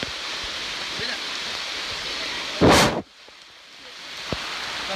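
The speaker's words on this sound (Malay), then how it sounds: "Enjoying the rain so far?" Steady heavy rain pours across a jungle trail between a nature reserve and a reservoir, with a sudden loud thunder crack about halfway through that breaks off sharply, leaving softer rainfall that slowly builds again.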